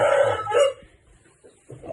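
A fighting rooster's crow rings out briefly and loudly at the start, then fades into quiet with a few faint rustles.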